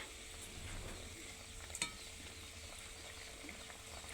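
Koi fish (climbing perch) sizzling as it is dropped into hot oil in a pan for koi kalia, a steady close hiss and crackle with a brief clatter near the middle.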